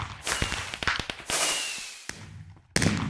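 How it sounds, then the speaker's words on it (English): Fireworks go off in the ReGrowth video game, a run of sharp cracks and bangs with hissing bursts between them, loud and close, with no talk over them. "watch fireworks."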